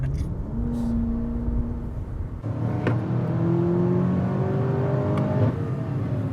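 A BMW F90 M5 engine revs up in steps, rising whine and growl repeating over a steady drone, loud and close throughout.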